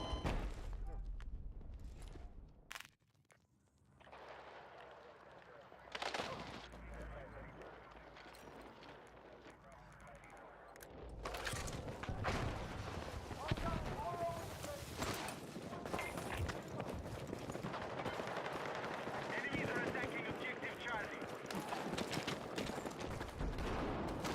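Gunfire in the video game Battlefield 6, with scattered shots and bursts over continuous game noise and movement, the firing growing denser and busier in the second half.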